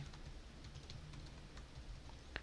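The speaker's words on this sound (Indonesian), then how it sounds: "untuk loginnya teman-teman bisa langsung ketik di sini" Soft, fairly faint keystrokes tap in an irregular run on a computer keyboard while a login is typed, ending with one slightly sharper click.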